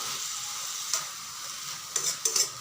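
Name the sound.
taro with prawns frying and sizzling in pan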